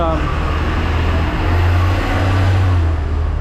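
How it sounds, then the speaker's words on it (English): Steady, loud street traffic on a covered main street in Macau, with buses rumbling past up close and a low engine drone swelling through the middle, under a continuous wash of road noise. "traffic's a little bit loud on this one though, at least those buses are"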